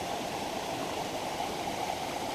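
Flowing stream water rushes in a steady, continuous wash at moderate volume, with no pauses and no voices.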